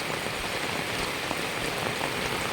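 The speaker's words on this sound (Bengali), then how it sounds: "দেখুন কত বৃষ্টি পড়ছে আমাদের এখানে" Heavy rain pouring down in a village, a dense, loud, unbroken hiss of drops striking surfaces close by, with no voices.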